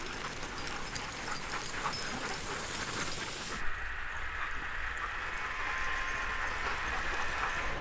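Sled dogs at the 2022 Iditarod race staging area in Willow, Alaska, barking and whining amid a busy outdoor crowd, with a steady wash of background noise throughout.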